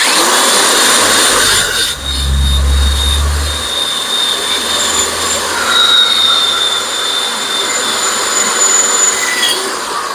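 An old wire wheel grinds the exhaust of a Mahindra eMax 22S tractor, a loud continuous harsh abrasive roar with a thin high whine, close and steady throughout.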